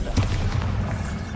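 Rumbling spell blasts from Confringo and Bombarda in Hogwarts Legacy, a dense low boom rolling on for over a second, loud and continuous, with no distinct separate hits.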